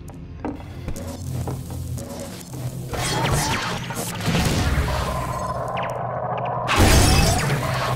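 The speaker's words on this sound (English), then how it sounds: "I heard glass break." Glass shatters in the video game Half-Life 2, a brittle crash with scattered debris among other game noises, rising to a loud burst near the end.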